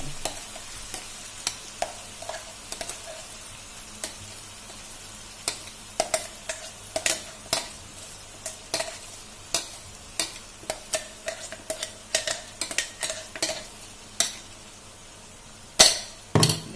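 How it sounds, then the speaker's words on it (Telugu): Ivy gourd pieces being tossed with onion gravy in a pan, a steady run of scraping, clinking stirs over a soft sizzle, close and fairly quiet with no voices. "ఒక్కసారి ఈ గ్రేవీ అంతా కూడా ఆ ముక్కలకి పట్టేలాగా కలుపుతున్నాం"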